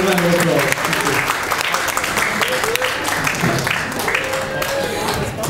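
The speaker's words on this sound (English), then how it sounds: "A round of applause." Audience at a Question Time event in High Wycombe applauding loudly and continuously, dense clapping from a packed room, with faint voices mixed in beneath the clapping.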